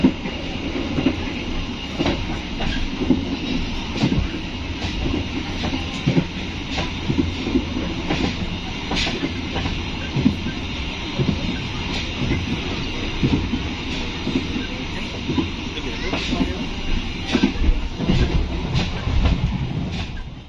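Kutojaya Selatan passenger train on the Kutoarjo to Kiaracondong route in Indonesia, running on rails with a steady loud rumble and rhythmic clickety-clack of wheels on rail joints throughout, with no one talking.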